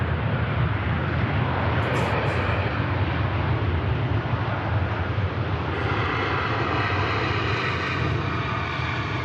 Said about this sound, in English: Buttering the runway there, the Virgin Airbus A330 coming in from Atlanta.